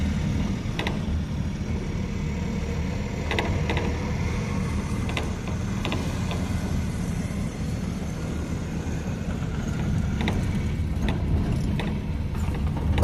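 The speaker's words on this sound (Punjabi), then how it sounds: "ਚੱਲ ਰਹੀ ਜੀਸੀਬੀ ਮਸ਼ੀਨ" A JCB machine runs steadily during road construction beside rice fields, a continuous low engine rumble close by with occasional sharp metallic clanks and knocks over it.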